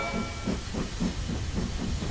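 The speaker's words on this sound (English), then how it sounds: "Mr. Train is going through a tunnel." A cartoon train in a kids' song chugs and hisses steam in a steady repeating puff rhythm, close and continuous under a broadband hiss.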